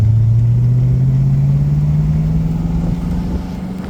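A 1990 Ford Mustang 7-Up edition rolls slowly into a small church parking lot, its engine a steady low hum that rises gently in pitch, close and continuous with no talking.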